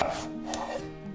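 A knife cuts a round eggplant into quarters for a fish head curry, making a few close, soft chopping strokes on a board with no talk.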